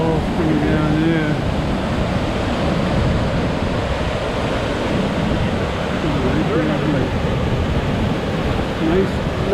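St. Mary Falls in Glacier National Park, Montana, pours down with blue glacial water in a steady, broad rushing roar that never lets up, with someone talking briefly over it.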